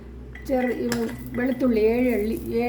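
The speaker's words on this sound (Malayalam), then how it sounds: "ഇനി ഒരു പാത്രം അടുപ്പയിൽ വെച്ചിട്ട്" A metal cooking pot is set down on a stove with a clear metallic clink and some light clatter, close by, while a person talks over it.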